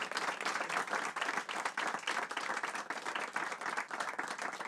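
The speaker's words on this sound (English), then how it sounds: "please give them a warm applause as a form of encouragement" Dense, even applause from a conference audience, many hands clapping in a continuous patter at moderate, somewhat distant volume.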